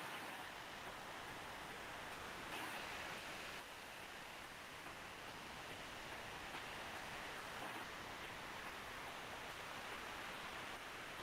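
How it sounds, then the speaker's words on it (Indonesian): Rain falls steadily as a faint, even hiss with no talking over it. "Di sini hujan Kak."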